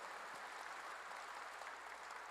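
A church congregation applauds together, a steady, dense patter of clapping that stays even and fairly quiet from start to finish.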